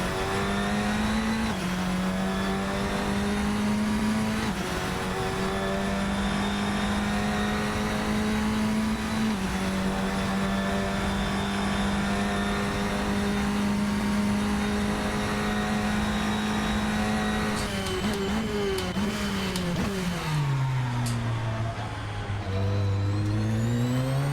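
A Radical SR10 XXR8 race car in Assetto Corsa, its engine droning loud and steady from an in-car view, with the pitch rising and falling through gear changes and a late drop as it slows.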